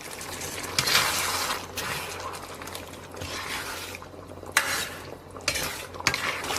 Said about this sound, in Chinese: 先给锅里边来点底油，油温微微热，咱们给里边来点这个蒜末，把茄子下到锅中